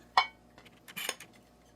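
Chaat ingredients are tossed in a bowl: two short clinks and scrapes of a spoon against the bowl, close and distinct, with quiet gaps between.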